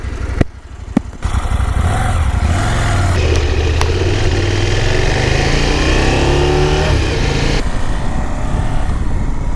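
A KTM 790R adventure motorcycle engine starts with a couple of sharp clicks, then settles into a loud, close idle that rises and falls through a few revs before easing back.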